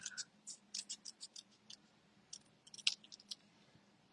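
Small scissors snip repeatedly in quick, crisp clusters of sharp clicks, close and quiet, with brief pauses between bursts and no talking.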